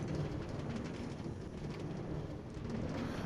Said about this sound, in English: What a wild place to have my train running through this area and through this mountain